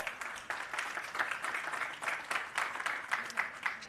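Audience at a media briefing gives a round of applause, soft and steady clapping heard from a distance, continuing evenly throughout.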